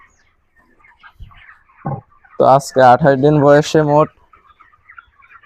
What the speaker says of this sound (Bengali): আর এখানে আমার 400 পিস মুরগি আছে।